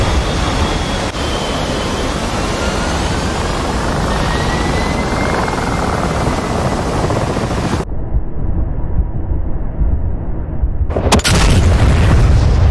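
Explosions and heavy rumbling from a bomb strike in a combat video game, a loud continuous roar that drops out briefly near the end before a sharp, loud blast returns.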